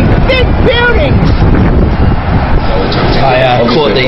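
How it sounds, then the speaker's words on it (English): Strong, cold wind roars across an exposed bridge, buffeting the microphone loudly and constantly, with no letup. "it's really, really windy and cold up here on the bridge."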